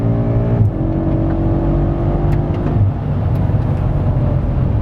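BMW M5 F90 engine revving hard at high RPM while accelerating, a loud, sustained, close engine drone whose pitch holds steady with brief shifts, with no voices heard.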